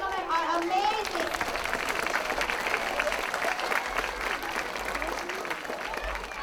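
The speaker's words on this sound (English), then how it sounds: "What about another applause, boys and girls?" Audience applause for a group of male performers at a live show, steady dense clapping throughout with a voice briefly heard near the start.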